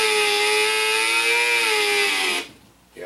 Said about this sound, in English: remember, nice and slow when you're putting these screws in